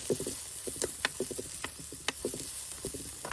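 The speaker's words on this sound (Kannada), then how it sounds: "ಈರುಳ್ಳಿ ಫ್ರೈ ಆಯಿತು ನೋಡಿ" Onion frying in a pan with crushed ginger and garlic, a faint, close crackle of small pops and spatters arriving in irregular quick bursts.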